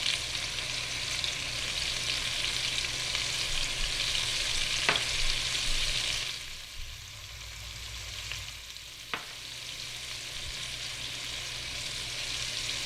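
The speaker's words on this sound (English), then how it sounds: "All right, let's give that a minute and let them sear" Pork chops searing in a hot frying pan, a steady close sizzle and crackle that drops briefly quieter midway, with a couple of sharp pops; no one speaks.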